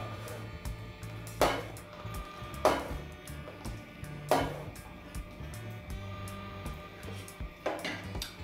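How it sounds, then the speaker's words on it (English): Pumpkin soup being stirred in a pot, a few distinct clinks and scrapes of a utensil against the pot at irregular intervals, faint and close, with a low background hum. "I'm gonna give it a stir"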